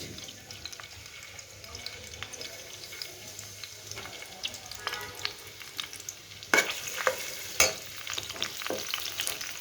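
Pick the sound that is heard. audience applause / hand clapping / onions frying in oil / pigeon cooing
onions frying in oil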